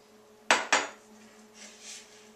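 Two sharp metallic clinks of silverware against a bowl while cookie dough is mixed, close and loud, then quieter scraping afterward.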